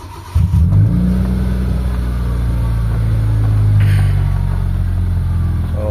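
A Mitsubishi Lancer GLXi fitted with a replacement MAP sensor cranks and fires up, then settles into a loud, close, steady idle with brief revs that rise and fall, with no talking.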